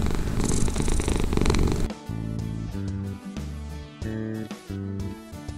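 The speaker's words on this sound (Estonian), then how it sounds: "Kiisu tuli tuppa." A house cat purrs up close with a dense, rumbling pulse for about two seconds indoors during a children's cartoon scene. Bright tonal musical notes then take over in short, rhythmic phrases.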